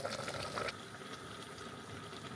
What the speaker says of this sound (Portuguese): Deixar acabar de ferver aqui para diminuir um pouquinho essa água e engrossar um pouco o caldo.